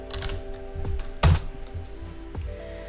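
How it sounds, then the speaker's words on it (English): A computer keyboard clicks as an IP address is typed into a browser: irregular close keystrokes with one louder thump in the middle, and no voices. "type my IP"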